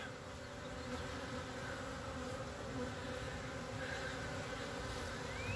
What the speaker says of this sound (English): I would say we definitely have bees living in that hive.